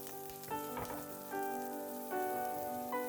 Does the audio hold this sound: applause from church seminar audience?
no